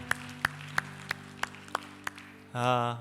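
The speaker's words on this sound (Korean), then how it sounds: "우리 서로에게 잘 오셨다고 환영의 박수, 축복의 박수 하겠습니다" Evenly spaced, rhythmic clapping at a Korean church service welcoming newcomers, roughly eight sharp claps over a steady sustained tone, before a voice begins at the end.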